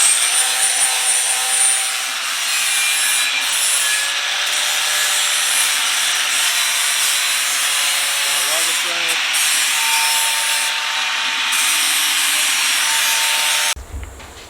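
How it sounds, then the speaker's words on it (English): A flap disc on an angle grinder cleans up the cut edges of a steel gas cylinder being made into a bell, a continuous loud abrasive whir and rub that holds steady before cutting off near the end. "At this point, I just clean these edges up with flap disc."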